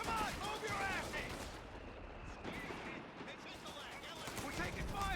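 Distant gunfire and explosions crackle across a Company of Heroes 3 battlefield near a villa with US forces engaged, a steady muffled rumble of shots beneath voices.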